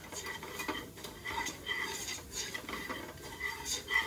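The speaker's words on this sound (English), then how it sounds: "Give this another stir." A spoon scrapes and clinks around a pan while stirring seasonings into turkey gravy made without drippings, a soft, steady rhythm of light metallic taps close by.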